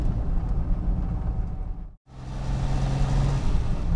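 A Lamborghini Miura with a running fault idles while warming up, its engine a steady, loud low rumble that briefly cuts out and then picks back up into an even, droning idle.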